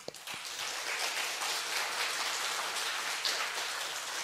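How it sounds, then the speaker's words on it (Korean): Congregation clapping together in a church during a Sunday worship service, a steady dense wash of applause held at even volume for a few seconds, no voices over it. "하나님께 영광의 박수를 한번 드립니다."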